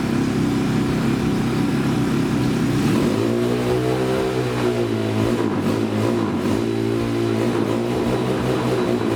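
A motorcycle engine with a faulty carburettor float revs and idles roughly, its low, wavering drone rising and falling in uneven surges close by, with no talking.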